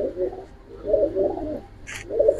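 A pair of jelly-eyed pigeons coo up close in three rolling, low bursts with short gaps between them, with a single faint high chirp near the end.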